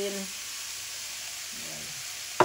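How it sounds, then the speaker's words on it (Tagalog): Mushrooms and broccoli stirred in a hot pan produce a steady, close sizzle throughout, with a faint voice briefly at the start. "Halo-halo lang."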